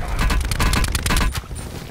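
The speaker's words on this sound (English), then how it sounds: "Hold on, I threw a grenade in there." A grenade detonating inside a building in a first-person shooter game, a loud, dense burst of crackling blasts with heavy low rumble lasting under two seconds.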